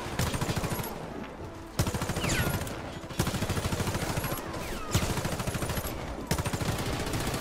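Rapid bursts of Scorpion submachine gun fire in the online shooter Warface, several loud sustained volleys separated by brief pauses, dense and close with no talking.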